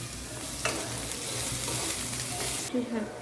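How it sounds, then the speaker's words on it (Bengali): Chopped nuts fry in hot oil for semai laddu, a constant loud sizzle with a spoon stirring and scraping the pan in a few sharp bursts, no voices over it. "গোল্ডেন কালার ভেজে নেব বাদামগুলোকে।"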